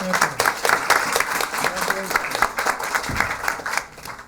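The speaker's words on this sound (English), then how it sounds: "how about another round of applause for our host champion?" At a school committee meeting, a small audience applauds a student host champion, a loose, uneven patter of individual claps close by, thinning out near the finish, with some voices talking underneath.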